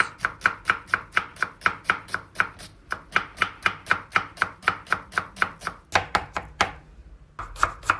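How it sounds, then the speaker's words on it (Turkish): A knife finely chops two medium onions on a cutting board, dozens of crisp close taps in a steady rhythm with a brief pause near the end. "2 adet orta boy soğanı ince ince doğruyoruz."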